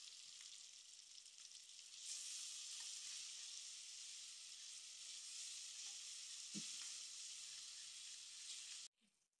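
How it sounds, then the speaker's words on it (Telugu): A masala paste of coconut, poppy seeds, coriander seeds, cinnamon and cloves fries in oil for mutton paya curry, giving a steady, close sizzle that swells slightly partway through and then cuts off abruptly. "మసాలా బాగా వేగిపోయిందండి."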